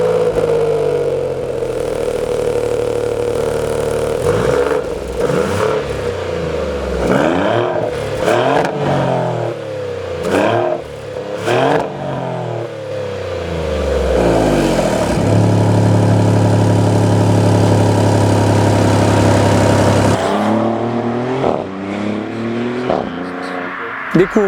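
Maserati GranTurismo Trofeo engine and exhaust rev repeatedly in loud, close bursts, rising and falling, then settling into a steady droning hold before a final surge; no talking over it.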